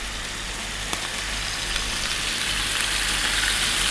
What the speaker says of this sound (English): And we're going to fry these